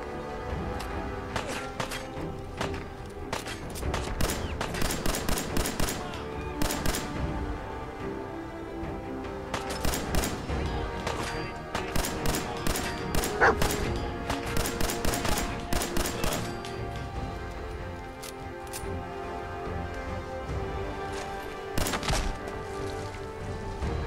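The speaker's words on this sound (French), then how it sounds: "Ils ont vraiment des mitraillettes, c'est ça qui fait mal." Enemy submachine guns rattle in repeated bursts in Fallout 4, dense volleys of rapid shots with short pauses, loud and continuous throughout.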